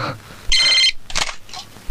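A telephone bell rings in a short, bright electronic burst, followed by a second, softer ring shortly after.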